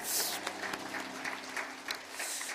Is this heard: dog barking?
no